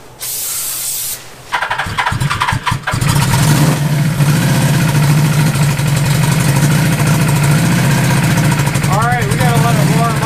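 A Suzuki GS850 Scrambler motorcycle engine cranks with a few sputtering turns, catches after about three seconds and settles into a loud, steady idle. Some faint background noises and brief high tones come near the end.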